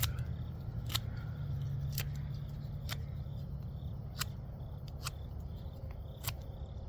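Knife carving wood, trimming down the side of a wooden page holder near a knot: sharp, crisp slicing cuts come at irregular intervals, about seven strokes, close and distinct over a low background hum, with no talking.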